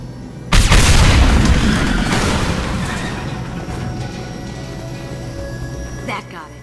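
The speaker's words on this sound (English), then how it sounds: "It'll take heavier weapons than that to blow those tanks." A tank blows up in the sci-fi video game Mass Effect 2: a heavy, loud boom, followed by a long rumbling decay and a faint further thud near the end.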